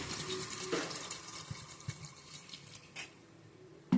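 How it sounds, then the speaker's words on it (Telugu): Water is poured into a pot of mutton paya curry, a quiet, gurgling splash of liquid heard faintly at close range, with a brief louder clink at the end. "ఇప్పుడు వాటర్ వేసుకుందాం."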